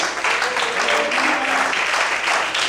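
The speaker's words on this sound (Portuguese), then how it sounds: "bate palma e adora o Senhor bem forte" A church congregation applauding in worship during an evening service, a dense continuous wash of many clapping hands, loud and steady from start to end.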